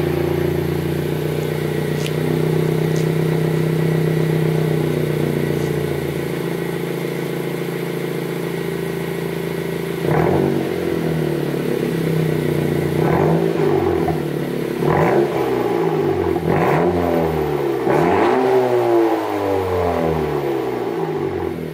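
A 10th-generation Honda Civic with its muffler deleted idles loudly with a raspy drone, then revs up again and again in sharp bursts that rise and fall, close up and with no talking.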